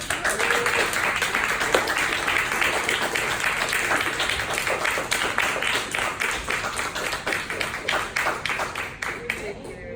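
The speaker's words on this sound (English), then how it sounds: "All right, let's give them all another round of applause." An audience at a storytelling event claps for the storytellers in a long, dense round, many hands patting steadily before thinning into a few scattered final claps near the end.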